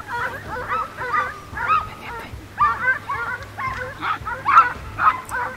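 Hunting hounds giving tongue during a Spanish montería in the Sierra de Alcoba hills, a chorus of yelps and barks repeating irregularly throughout at moderate distance, with a low steady rumble underneath.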